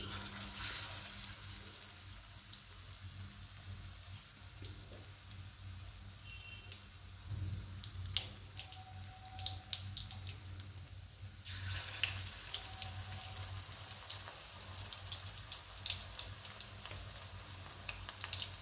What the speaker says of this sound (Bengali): কপিগুলোকে ডিপ করে আমি তেলে ছাড়ছি।